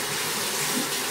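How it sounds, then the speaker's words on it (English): Tap water runs steadily into a sink while a brush is rinsed under it, a close, continuous broadband splash with a slight swell near the end and no talking. "Rinse off my brush."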